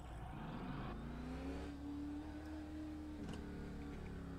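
Car engine in a racing simulator game revving and accelerating as the gas is pressed, a steady droning whir that rises in pitch, heard alone without talk.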